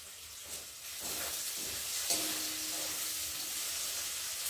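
Garlic frying in oil as a tempering for masoor lentils, a steady broadband sizzle throughout with slight stirring swells and a faint hum, close and fairly quiet, no voices.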